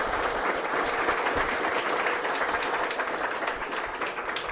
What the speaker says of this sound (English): So let's give a round of applause to Akanksha again.